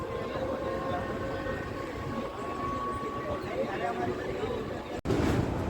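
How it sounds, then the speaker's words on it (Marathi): Inside the crowded Diva–Ratnagiri 50103 passenger train on the Konkan Railway, a steady rolling rumble and rattle fill the carriage, broken by a brief sharp jolt near the end. "तर आपण फायनली आता ट्रेनमध्ये चढला असाव"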